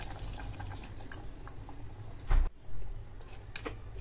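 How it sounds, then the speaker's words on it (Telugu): Water poured into a pot of spicy village-style mutton curry, a short splashing pour heard close up in a quiet kitchen and followed by a brief second splash. "ఇప్పుడు ఇందులో మనం నీళ్ళు పోసుకుందాం."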